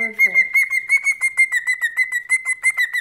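A pet bird gives a long run of rapid, loud, high whistling chirps in a steady pulsing rhythm, close by, after a brief low murmur at the start.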